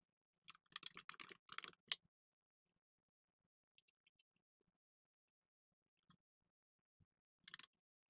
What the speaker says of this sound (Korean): 클릭하셔서 타이핑하겠습니다.